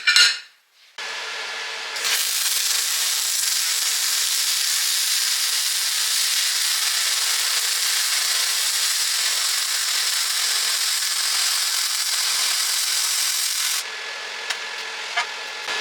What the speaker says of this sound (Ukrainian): І ось зварка алюмінія на лінійному способі, без пульса.